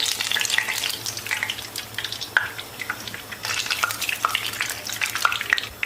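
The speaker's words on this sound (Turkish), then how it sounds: "Şimdi bütün patlıcanları aynı şekilde kızartıp bitireceğim" Steady oil sizzling and crackling as eggplant fries, with scattered pops and spits and occasional stirring, close and continuous without voices.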